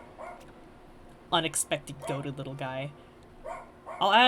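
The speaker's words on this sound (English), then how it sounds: "You might hear my little rat dog barking in the background." A small dog yaps in short, sharp, high barks in the background while someone talks right over it, the barks bunched in the middle and again near the end.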